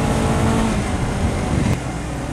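Honda CBR250RR motorcycle engine on a test ride, a loud steady drone with wind rush, holding speed close to the microphone and easing off slightly near the end.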